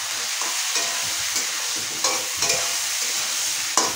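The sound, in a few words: brinjal (eggplant) pieces frying in hot oil with turmeric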